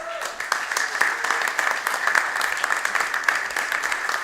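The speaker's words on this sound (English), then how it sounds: "A round of applause for the acts this evening." An evening show audience applauds the acts with steady, dense clapping throughout, a crowd sound with voices faintly mixed in.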